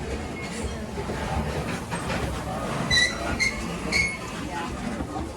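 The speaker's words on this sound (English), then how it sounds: "this is one long freight train going through" A long freight train hauled by Indiana Northeastern diesels rolls past at a distance, giving a steady rumble of wheels with a few faint squeals and clicks.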